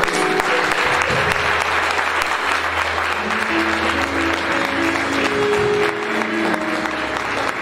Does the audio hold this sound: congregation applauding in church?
yes